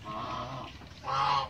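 A male duck outside, apart from a rival, gives two loud, close, raspy honking calls separated by a short pause.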